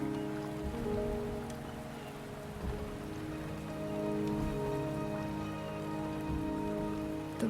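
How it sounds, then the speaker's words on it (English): Rain falls steadily in the video game Wuthering Waves, a dense close patter on surfaces with soft swells and a few scattered drips, no voices. "The rain is subsiding, and the sky will soon clear."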